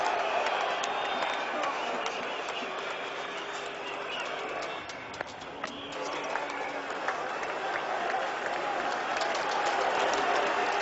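A cricket stadium crowd cheers and applauds as Ganguly passes Kapil Dev's record, a broad, distant, sustained roar of clapping and shouting with commentary talk over it.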